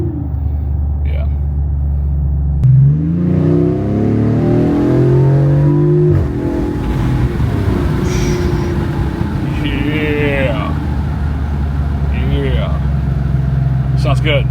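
A 2026 Dodge Charger with a resonator delete and rear small-pipe dump exhaust revs up several times, rising and falling with a deep rumbling tone, close and loud, while people talk over it.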